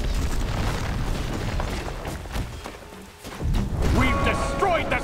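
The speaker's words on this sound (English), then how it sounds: "We've destroyed the central tower." Stone tower collapsing during a siege battle in the Rise of the Witch-King strategy game, a loud continuous rumble of crashing masonry and booms under battle noise and voices.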